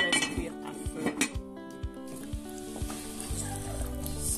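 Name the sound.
food sizzling while cooking on low heat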